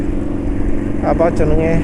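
A Yamaha NMAX scooter engine, running rough after 700 km of use, hums steadily up close, with a voice briefly talking over it near the end.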